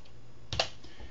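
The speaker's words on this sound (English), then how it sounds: "so I'm gonna type that in." Typing on a computer keyboard at a desk, a quick cluster of a few soft key clicks near the middle, otherwise quiet.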